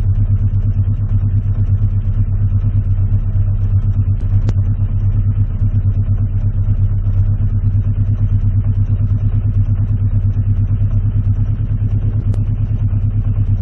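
A Honda CB650C four-cylinder motorcycle idling after a pilot screw adjustment, a steady close, loud low rumble with an even beat and no change in pace throughout.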